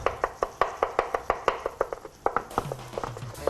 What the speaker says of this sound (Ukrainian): Чесничок дрібненько, так потрібно нарізати?